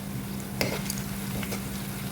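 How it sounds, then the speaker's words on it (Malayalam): Whole spices, bay leaves and onions stirred in a biryani pot, a soft steady sizzle with a few scraping strokes of the spoon, close and fairly quiet. "അതിനുശേഷം നന്നായിട്ടൊന്ന് ഇളക്കി കൊടുക്കുവാണേ"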